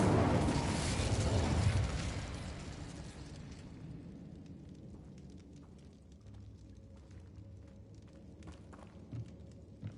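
A fiery Incendio spell blast in the Hogwarts Legacy video game, a loud roaring burst that dominates the first two seconds, then fades into a softer crackling tail with scattered small pops.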